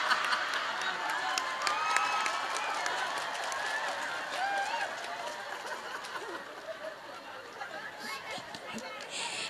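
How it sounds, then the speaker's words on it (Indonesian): Crowd clapping for a police officer at an outdoor religious lecture in Karang Malang, Indramayu, fairly faint and distant, mixed with chatter and crowd noise throughout. "tepuk tangan dulu dong buat Pak polisi kita"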